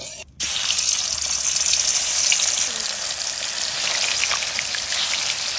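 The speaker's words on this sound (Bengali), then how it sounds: "সর্ষের তেল মাছ ভাজার জন্য বন্ধুরা, একটু বেশি দিতে হবে আজকে" Fish pieces drop into hot mustard oil after a brief quiet moment, setting off a sudden loud, dense sizzle that keeps crackling steadily up close, with no voices.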